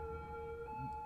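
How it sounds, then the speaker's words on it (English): An ambulance siren in the Cities: Skylines city-building game wails as a steady tonal blare, faint and distant, held for a brief moment with a slight pitch shift, no voices. "Oh, this ambulance is so real."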